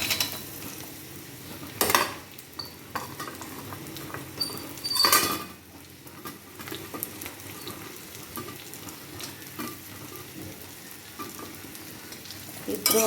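Raw banana pieces frying in oil with mustard seeds, cumin and dried chili give a soft, steady sizzle, broken by a few sharp scrapes of stirring in the pan.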